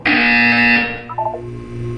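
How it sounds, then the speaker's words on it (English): Portal 2 game buzzer: one loud, steady electronic buzz lasting under a second, followed by a softer tonal blip and a quiet low hum. "You will hear a buzzer. When you hear the buzzer, look down at the floor."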